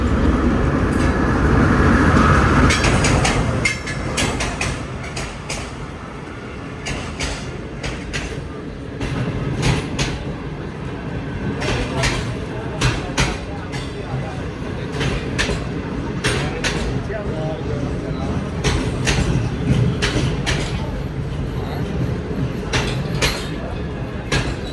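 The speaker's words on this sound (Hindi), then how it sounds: "ये आ रही है जी कराची लाहौर के दरमियान चलने वाली 27 ऑफ शालीमार एक्सप्रेस" Shalimar Express, which runs between Karachi and Lahore, rolls into a station with a steady heavy rumble and irregular metallic clanks and clicks, loudest in the opening seconds and then holding a constant roar.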